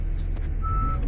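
At a muddy new subdivision dig site, a single short high backup beep from a reversing truck sounds over a low engine rumble, at moderate distance.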